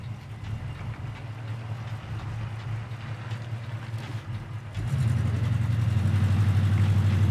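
A 1972 Plymouth Scamp with a 360 engine drives along, its low engine drone steady, then rising in loudness and pitch partway through as it shifts and accelerates, with no talk over it.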